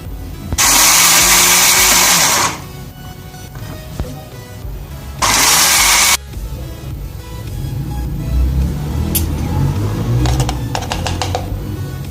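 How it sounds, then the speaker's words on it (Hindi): Electric grinder powdering whole garam masala spices, including mace and nutmeg, in two loud, close bursts of whirring, the first about two seconds long and the second shorter, with quieter rattling and clatter between and after them. "ये सब अब हम पीस लेंगे अपने ग्राइंडर में।"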